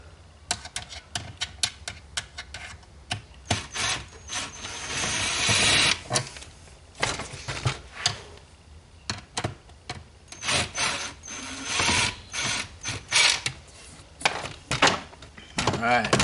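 A hand ratchet clicks in quick bursts while backing out screws from a diesel Jeep Gladiator's interior panels for a front speaker install, with irregular rapid ticking and scraping close by and a voice talking at times.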